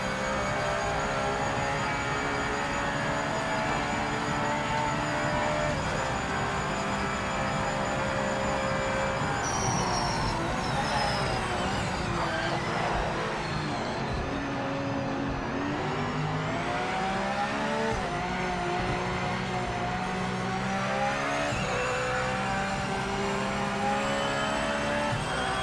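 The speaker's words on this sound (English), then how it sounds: "Car sounds pretty good." Race car engine from the Project Motor Racing video game, a sustained loud drone with rising and falling revs and gear shifts across the whole stretch, no talk.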